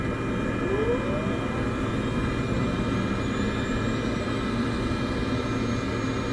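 Aircraft engines roaring at takeoff power in the Microsoft Flight Simulator 2024 video game, a constant loud drone holding steady throughout.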